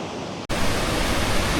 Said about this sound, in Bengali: আসলে সমুদ্রের গর্জন খুবই মিষ্টি।